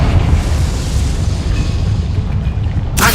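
Confringo fire spell blasting in the video game Hogwarts Legacy: a loud, continuous booming explosion rumble lasting about three seconds, ending with a sharp burst.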